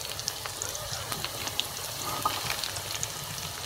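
Whole cardamom pods and garlic frying in hot oil give a steady, close crackling sizzle dotted with small pops and spits, with no voices.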